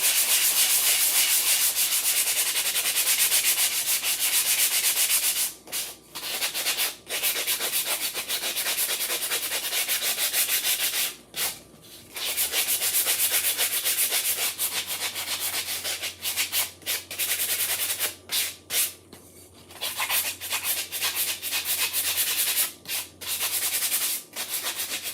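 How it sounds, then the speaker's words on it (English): Sandpaper rubs back and forth across a small craft pumpkin piece, a steady raspy scraping in repeated strokes broken by short pauses, close and alone. "Let's give it a quick sanding here."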